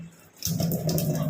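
Water suddenly gushes on after a brief quiet moment, splashing steadily and close as something is washed in a household setting.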